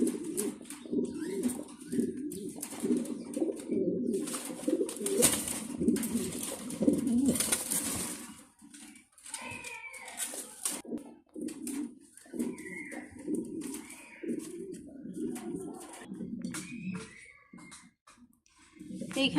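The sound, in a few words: pigeons cooing at a pigeon farm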